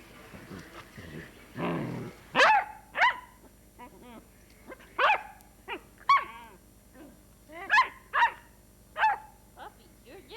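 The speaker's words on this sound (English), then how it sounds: "Puppy, you're loud. You're loud." A puppy is barking in short, sharp, repeated yaps close by, with a whimper and a growl early on, while a person talks over it.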